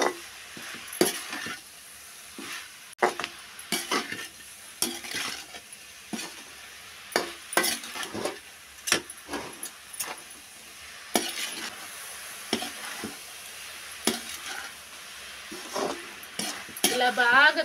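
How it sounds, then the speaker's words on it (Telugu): A spoon repeatedly scrapes and clinks through broad beans and tomato curry in a pan, in steady irregular strokes with a soft sizzle underneath and close, clear contact sounds. "ఈ చిక్కుడుకాయలకి ఈ టమాటాలకి బాగా కలిసేటట్టు అన్నీ బాగా కలుపుకోవాలండి."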